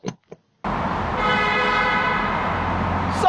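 A car horn blares in New York City traffic as a long, loud, steady honk that follows two short blips. The street hum sits underneath.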